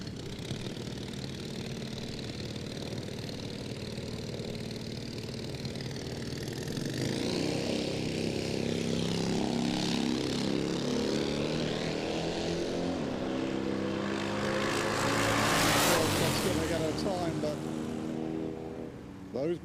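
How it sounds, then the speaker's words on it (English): Drag racing motorcycle engines roar at a Dragstalgia nostalgia drag meet, a loud sustained growl that swells and rises in pitch as the bikes accelerate down the strip, with an announcer talking over it. "Those motors sounding strong"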